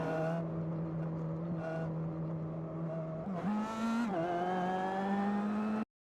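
An IndyCar race car's engine holds a steady high-pitched whine, then revs up sharply and keeps climbing as the car pulls away from pit road, loud and close throughout before cutting off abruptly.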